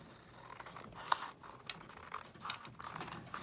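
Scissors cut around a paper misprint in a few crisp, separate snips close up, set against quiet background noise with no talking.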